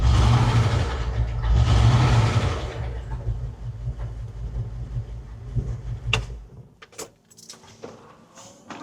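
A 1970 Chevy C20 pickup with a 454 engine runs with a heavy low rumble that swells loudly, then settles to a quieter idle, with metallic clanks and knocks near the end.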